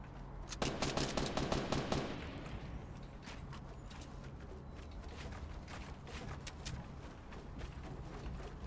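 Gunfire rattles in Fortnite Battle Royale during a build battle, opening with a loud rapid burst of automatic shots, then thinning into scattered quieter shots and echoing cracks.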